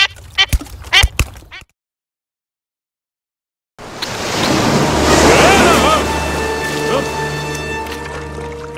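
A cartoon ocean wave from The Simpsons rushes in loud and close as a broad wash of surf, with water and wind noise, after brief talking and a moment of silence.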